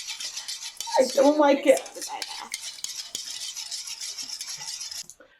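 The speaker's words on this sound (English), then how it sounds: "using, any kind of spoon or anything, just going to stir this up" A spoon stirs a Kool-Aid yarn dye bath, clinking loudly against the container in a quick burst before easing into softer scraping, and a voice speaks briefly.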